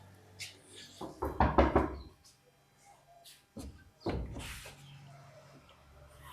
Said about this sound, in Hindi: चलो बजा कर देखते हैं दरवाज़ा।